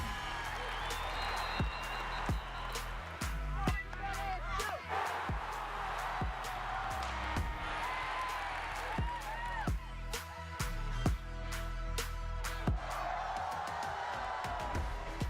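A large crowd cheers, whoops and claps continuously at a sporting event, dense and loud throughout, with sharp claps and shouts rising over the roar.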